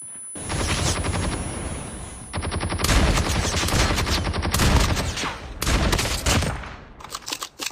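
Gunfire in the battle royale mode of the mobile game Call of Duty Mobile, loud rapid automatic bursts in several long volleys separated by short gaps, ending in scattered shots.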